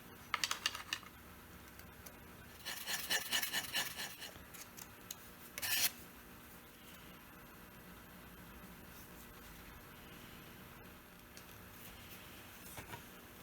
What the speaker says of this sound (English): I cleaned everything out with a file.